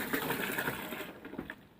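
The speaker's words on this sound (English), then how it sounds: "I dump 2 cups into the toilet, roughly a couple cups." Liquid poured from a container into an RV toilet bowl during winterizing, a brief bubbling gush that trails off into a few splashy drips, close and moderately loud.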